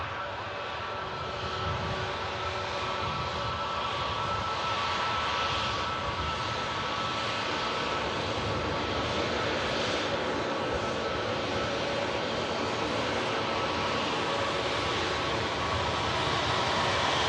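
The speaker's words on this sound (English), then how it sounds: "Lufthansa arriving in from Munich." A Lufthansa airliner arriving from Munich at Manchester Airport, a steady broad engine roar that holds loud and even throughout, with faint rising swells of jet whine.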